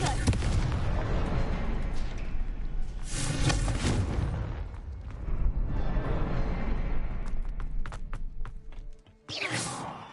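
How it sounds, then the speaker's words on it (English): Several loud, booming Confringo spell explosions go off in Hogwarts Legacy combat, heavy bursts with rumbling tails separated by short pauses, mixed with game effects. "Confringo! Protego! Confringo!"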